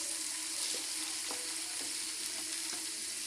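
Masala-stuffed okra fries in a pan under a dense, even hiss of oil, with a few soft stirring clicks spaced through it and no talking.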